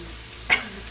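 Zucchini dropped into a hot pan gives a short sharp sizzle, one quick hissing burst rising over a quiet kitchen background and fading within a moment.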